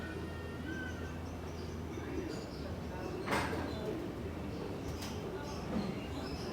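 Soft pigeon coos and bird calls sound over steady outdoor background noise at a pigeon loft, with a couple of brief louder bursts; people talk faintly nearby.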